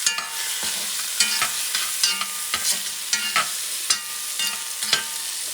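Ripe chopped tomato stirred in a pot over the heat for a halal chicken stew, a spoon scraping in a steady rhythm of roughly a dozen distinct strokes, with a soft sizzle running underneath, close and moderately loud.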